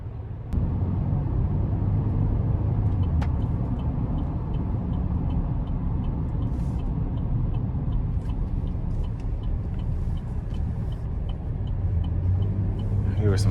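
A 2023 Chevy Traverse LS with a non-turbo 3.6-litre V6, heard from inside the cabin while driving: a steady, low engine and road rumble that holds evenly throughout.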